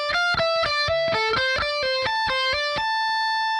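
Electric guitar plays solo phrases, a run of distinct picked and hammered notes moving up and down in a clear rhythmic line, close and alone before a brief fade.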